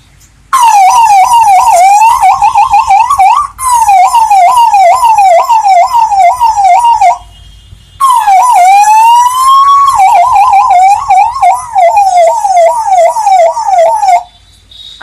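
A man imitates an ambulance siren with his mouth: loud, rising and falling wails in two long bursts separated by a short pause, each with a fast, regular warble like a real emergency siren.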